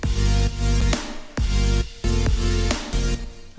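A future bass drum loop with a crash cymbal struck on every kick, its bright wash filling the top end; loud, punchy hits recur in a steady rhythm with short gaps between phrases, and no one talks.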